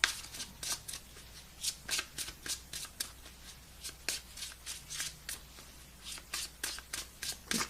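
Tarot cards being shuffled by hand in repeated quick riffles and slaps, a steady run of short crisp bursts close up, with no talking.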